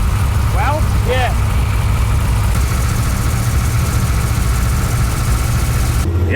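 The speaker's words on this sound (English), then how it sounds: "I set the idle down a little bit. It's a NASCAR motor, so it doesn't want to go under 1500 RPM." A NASCAR motor in a '55 Chevy idles with a loud, steady low rumble that stays constant throughout, with a couple of brief squeaky sounds early on and no speech.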